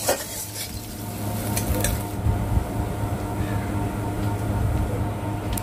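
Chopped onions fry in oil in a wok over a village clay stove, with a steady sizzle and occasional clinks and scrapes of stirring near the start, close by.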